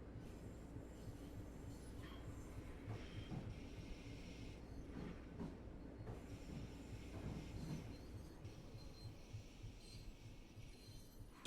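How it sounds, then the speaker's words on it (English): A long Long Island Rail Road train rolls past on the left in Train Sim World 4, a steady low rumble of wheels and cars with faint squeals, continuous and moderately distant, no talk. "A long old train there on the left."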